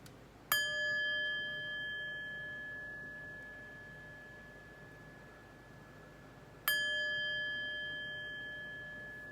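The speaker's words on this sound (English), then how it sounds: "But first, let's chime." A metal chime is struck twice several seconds apart, each a bright, clear ring that lingers and slowly fades over a quiet background.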